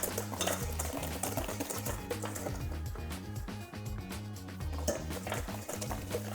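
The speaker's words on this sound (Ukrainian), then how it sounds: "І перемішуємо." Egg yolks are whisked for a lemon tiramisu in a bowl, giving a quiet, steady, rhythmic scraping and clinking that continues without a break and without talk.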